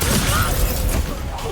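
A Confringo fire spell bursts in Hogwarts Legacy, a loud, dense roaring blast that fills the whole moment and eases off slightly toward the end.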